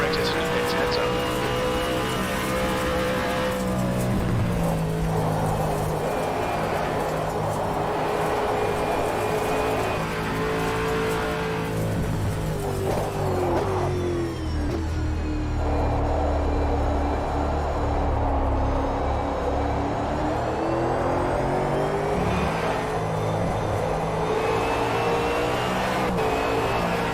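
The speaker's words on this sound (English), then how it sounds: "Alright Craig, as the car exits through the pits, heads up." A race car accelerates out of the pit lane, its engine note rising and falling steadily as a voice talks over it on the radio.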